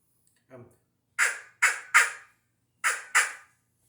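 A FoxPro hand-blown predator call gives five short, sharp squawks in quick, uneven bursts, bird-like and harsh, after one softer lower note, with silence around them.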